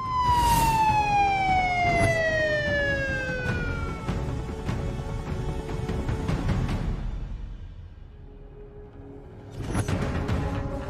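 A police siren wails, its falling tone sweeping downward and repeating loud and close for several seconds, then fading and returning near the end amid road traffic rumble.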